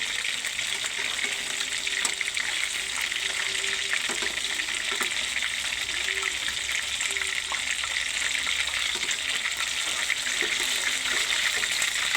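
Chicken frying in hot oil gives a steady, close, loud sizzle and crackle that holds unbroken throughout, with no talk over it.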